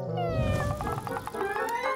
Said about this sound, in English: Come here, little kitty cats.